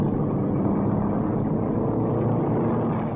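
Racing car powered by an O'Shea gas engine at a county fair race, a steady, loud roaring engine drone held throughout without a break.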